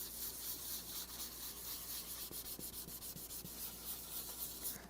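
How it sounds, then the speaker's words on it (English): Fine 1200-grit sandpaper level-sanding a small sprayed lacquer patch around a guitar's sound hole, a steady soft rubbing hiss with faint rhythmic strokes, close and quiet, no talking. "I'll go back with 1200 grit, and I'll just level sand that area right around the sound hole that I sprayed."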